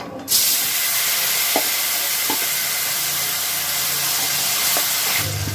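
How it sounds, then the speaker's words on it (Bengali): Soaked tamarind dropped into hot oil already fried with spices and dried red chilli for tamarind pickle, setting off a loud, steady hiss of sizzling that holds evenly across the clip, with a few faint clinks. "এর মধ্যে আমি ভিজিয়ে রাখা তেঁতুলগুলোকে দিয়ে দিচ্ছি"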